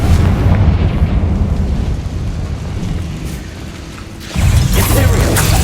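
Confringo blasting spell explosions in Hogwarts Legacy, a loud rumbling, crackling blast that fades, then a fresh burst near the end.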